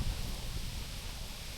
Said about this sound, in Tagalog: Medyo mahangin din kasi ang panahon.